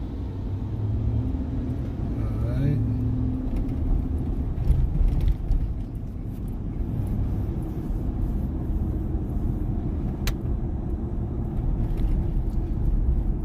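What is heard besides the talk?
double articulated metro bus in Los Angeles street traffic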